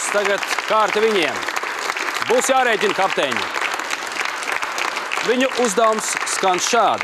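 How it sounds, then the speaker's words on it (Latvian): Audience at a live quiz show clapping continuously for the team captains, a steady dense applause throughout, with someone talking over it on a microphone. "Ar milzīgām ovācijām atbalstam savus komandas bīdītāju spēkus kapteiņus."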